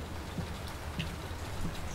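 Heavy storm rain in the horror video game Layers of Fear, a steady, dense hiss of downpour with occasional drips and patters, constant and fairly loud, with no talking.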